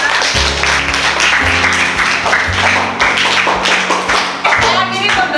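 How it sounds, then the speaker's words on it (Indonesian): A Grade 7D Indonesian-language class claps, a loud and close burst of uneven handclaps that swells and fades in waves, with voices mixed in underneath. "Tepuk tangan untuk kalian semua."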